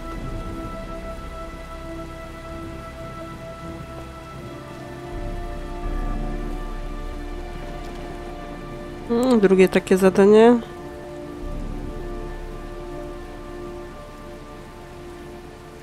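Steady rain falling in the video game Heavy Rain, a constant even patter throughout, with a person speaking briefly over it and a short warbling tonal sound in the middle.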